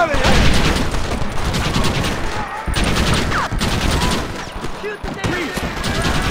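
Rapid gunfire from a Red Dead Redemption shootout, dense overlapping volleys and booms running continuously throughout, with excited voices shouting over the shots.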